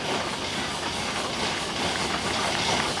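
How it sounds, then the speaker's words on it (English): A 24-horse Minneapolis steam traction engine runs at a steam show, giving off a steady, broad hiss and rumble that stays constant and fairly close throughout, with no voices. "Here we have a 24-horse Minneapolis traction engine"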